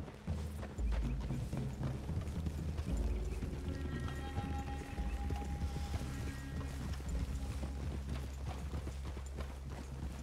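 Horse hooves clip-clop steadily across a woodland clearing in the Western video game Red Dead Redemption 2, a continuous, muffled rhythm of several horses walking, with faint ambient background and no talk.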